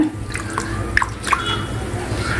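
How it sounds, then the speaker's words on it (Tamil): Plain tap water is poured over soya chunks in a kitchen, producing light splashes and a few distinct drips over a faint hiss, close up with no talking. "சாதாரண டேப் வாட்டர் தான் ஊற்றிக்கிறேன்"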